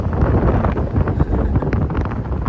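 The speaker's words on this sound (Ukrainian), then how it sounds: "Вітер просто здуває." Strong beach wind buffets the microphone in a constant, loud roaring rumble, gusting unevenly throughout with no voices heard.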